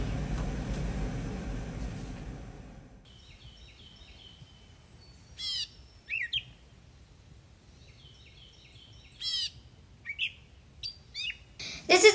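Birds chirp outdoors during a backyard bird-watching and chipmunk-feeding outing: a low rumble fades, then scattered short tweets and repeated calls ring out near and far against quiet.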